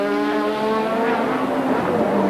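Loud, steady engine roar of a race car during practice for the 1986 Australian Grand Prix, a highly tuned motor holding a sustained high-pitched drone with harmonic whine throughout, no talk.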